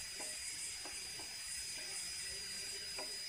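Whole cumin, fenugreek, black peppercorns and dried red chillies dry-roasting in a pan for tiffin sambar, giving a steady soft hiss with a few faint light ticks and taps, no talking.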